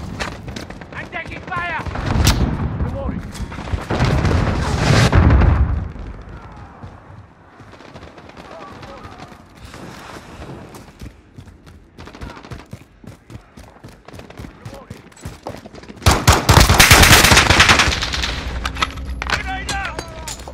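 Gunfire in the video game Call of Duty Modern Warfare, a Grazna Raid match, with loud bursts of shots and booms near the start and again near the end, mixed with quieter game sounds and radio voices talking.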